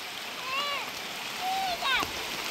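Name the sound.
rain falling in a garden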